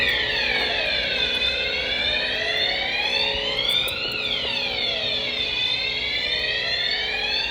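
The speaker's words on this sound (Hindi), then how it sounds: "इतने में अलार्म बज जाता है।" A car alarm wails loudly and continuously in a deserted mall parking lot, its rising and falling siren tone sweeping up and down without pause.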